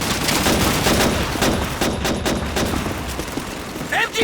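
In the Call of Duty 2 Stalingrad battle, MG42 machine gun fire rattles in fast, loud bursts amid scattered rifle shots, easing toward the end, with voices shouting in the mix.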